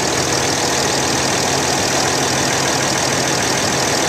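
A 2012 Dodge Ram 3500 crew cab with a 6.7L diesel engine and stick shift idles steadily, a loud, constant rumble with a faint knocking clatter and no voices.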